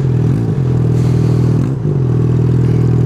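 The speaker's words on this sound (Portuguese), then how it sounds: "o barulho da moto quebrado assim fica diferentão" A motorcycle with a broken exhaust drones loudly and steadily with a rough, rattling exhaust note, dipping briefly twice before settling back into its harsh idle.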